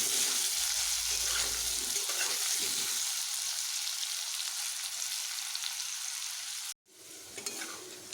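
Potatoes with salt and a little turmeric fry in a pan for a pumpkin dish, a loud continuous sizzle with stirring, then a brief cutoff and quieter frying with a few clinks.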